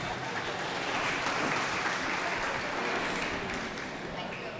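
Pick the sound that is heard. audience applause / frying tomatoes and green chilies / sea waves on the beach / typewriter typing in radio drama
audience applause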